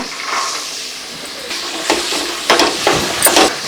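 Beans, peas and carrots stir-fried with ginger and garlic in a pan, a soft continuous sizzle broken by several scraping stirs of a spatula, close and without talk.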